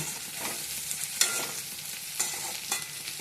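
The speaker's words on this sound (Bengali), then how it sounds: "এখানে বসিয়েছি পেঁয়াজ কুলি দিয়ে, আলু দিয়ে ভাজা।" Potatoes and onion frying in a pan, a steady close sizzle with a few sharp scraping stirs landing at irregular moments; no voices.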